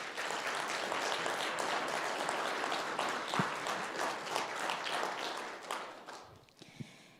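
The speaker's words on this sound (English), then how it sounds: "Can we have a round of applause for them?" Outdoor crowd applause for a police and fire department escort at a home dedication for an Army staff sergeant, moderately distant steady clapping that thins out and tapers off in the final second.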